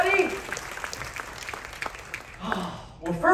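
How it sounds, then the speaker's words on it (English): Audience applauding during a headliner show aboard the Royal Caribbean cruise ship Oasis of the Seas, a sustained wash of clapping that swells again near the end while a host speaks over it. "keep that round of applause going for my friend, the cruise director, Mr. Dennis Charles."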